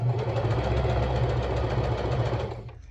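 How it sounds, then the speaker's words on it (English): A sewing machine running steadily while stitching fabric to gather it, a loud, close, continuous mechanical hum and rapid clatter that stops abruptly near the end. "And start sewing."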